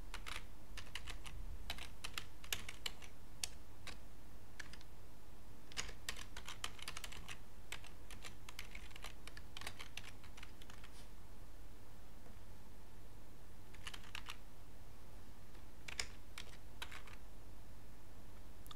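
Keys clatter on a computer keyboard as an email address is typed, in quick irregular bursts with short pauses, close and fairly faint over a steady background hiss, with no one talking.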